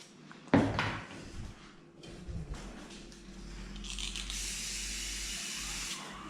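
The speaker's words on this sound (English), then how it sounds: "This is a spray that cools, lubricates and disinfects the blade." Cooling lubricant spray is applied to a pet clipper blade: a clunk and rustle first, then a steady hiss lasting a couple of seconds, with no voices.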